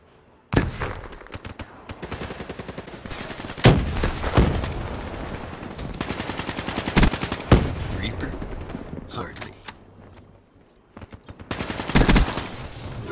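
Peacekeeper gun fire in Call of Duty: Black Ops 3 multiplayer: long, loud bursts of rapid automatic shots with a few heavier booms, near and sustained, broken by a short pause before another burst, under occasional talk.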